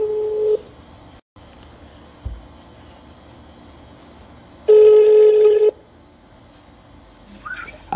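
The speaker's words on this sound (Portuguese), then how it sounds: "ligar pra mais um." A phone dials out with a short electronic tone, a thump, then a steady ringback tone sounding for about a second, followed by quiet line hiss and a faint later chirp.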